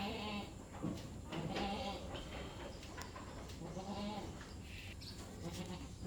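Several wavering bleats from Boer crossbreed meat goats nearby in a pen, rising and falling in short bursts over a low background hum, fairly quiet.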